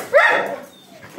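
Dog giving a single short excited bark or yip indoors, close and fairly loud, followed by a quieter tail of sound.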